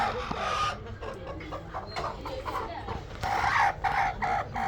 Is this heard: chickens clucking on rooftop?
yes